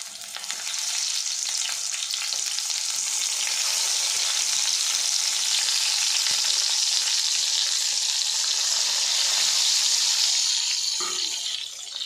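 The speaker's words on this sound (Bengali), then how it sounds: "গ্যাস লিটটা হাইতে রেখে বেগুনটা ভাজা ভাজা করে নেব" Eggplant pieces fry in hot oil on a gas flame turned up high, giving a steady, loud, close hiss and crackle that runs unbroken throughout, with no talking.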